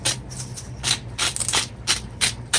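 A pepper grinder crunches black peppercorns in a home kitchen where Jamaican curry potatoes are being cooked, giving a run of close, rhythmic grinding bursts of about eight twists with short gaps between them and no talk.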